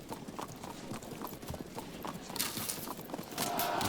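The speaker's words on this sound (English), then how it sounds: "These are, of course, the fierce nomad horse archers." Galloping hoofbeats of nomad horse archers in Field of Glory 2, a rapid clatter of many hooves that swells louder toward the end, with no voices.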